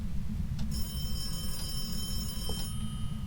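A phone rings in the ghost-hunting game Phasmophobia, a thin electronic ringing tone that sits faintly over a steady low rumble of background noise and carries on for a few seconds without any talking.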